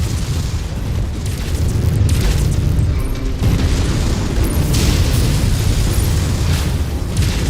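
In the MechWarrior 5: Mercenaries video game, mech weapons fire with heavy, rumbling booms and explosions that fill a dense, loud, continuous battle din with no voices.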